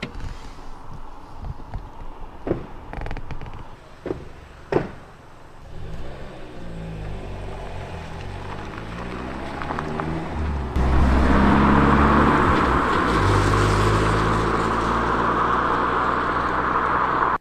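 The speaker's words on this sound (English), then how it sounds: "Car's just pulled up, and it sounds like they're walking around the van" A car engine approaches and idles close by outside a parked van at night, a low rumbling drone that swells and grows louder midway, with a few sharp knocks and bumps before it.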